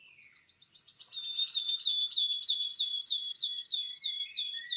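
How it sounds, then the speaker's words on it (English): A wood warbler sings a single accelerating trill, a rapid series of thin high notes that speed up and run together into a shivering roll, clear and alone against silence. "This is the wood warbler,"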